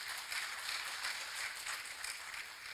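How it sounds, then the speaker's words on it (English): A seminar audience gives itself a round of applause, a soft but continuous patter of many hands clapping, fairly distant and even throughout. "So please give yourselves a big round of applause."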